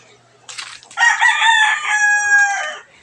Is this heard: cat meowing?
no